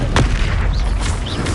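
Expulso spell blasts in the Hogwarts Legacy video game: a sharp burst near the start, then dull booming rumble with a couple of brief whooshing zips, loud and continuous for under two seconds.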